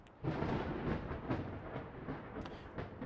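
A long, low rolling rumble of thunder from lightning in the video game Reality Layer Zero, swelling suddenly and then slowly grumbling away in the distance, with no voices.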